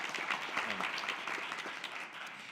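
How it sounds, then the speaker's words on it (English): Applause from an audience, a dense, steady patter of clapping that holds throughout and fades slightly at the end. "let's give a round of applause to our great panelists"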